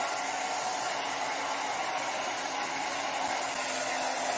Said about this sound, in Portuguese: aqui a gente vai bater menos secador